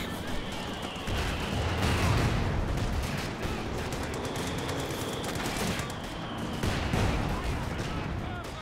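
Mortar and gunfire in a Company of Heroes 2 battle: a continuous, dense wash of distant rattling small-arms fire and muffled blasts, with someone commentating throughout.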